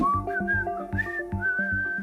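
Someone whistles a short, bright tune alone, clear notes rising and falling over a steady musical background.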